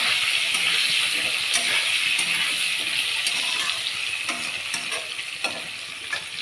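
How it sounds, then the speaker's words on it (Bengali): Vegetables frying with turmeric in a pan sizzle loudly and steadily up close, broken by scattered stirring clicks and scrapes. "সবগুলো একটু ভেজে নেব।"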